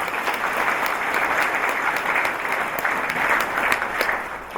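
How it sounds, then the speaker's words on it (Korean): Sustained applause from a large crowd at an inauguration ceremony, dense and steady clapping filling the whole stretch at an even, fairly loud level. "이분들을 위해서도 큰 박수를 보내주시면 고맙습니다."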